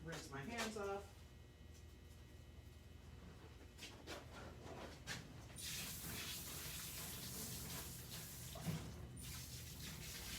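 Tap water runs steadily into a sink as hands are rinsed, a continuous close hiss of flowing water that continues after a brief voice at the start.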